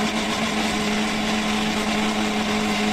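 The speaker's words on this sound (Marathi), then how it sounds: "आंब्याच्या फोडी आहे ह्या व्यवस्थित मिक्सरला लावून घेऊया आणि छान असं मिक्सर फिरून घेऊया" A mixer grinder blending mango pieces runs loud and steady, its motor whirring and blades churning continuously throughout, with no voices.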